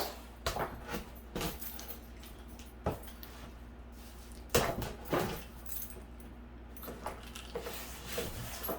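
Metal car keys jangle and clink in irregular bursts, close by, with scraping handling sounds between them.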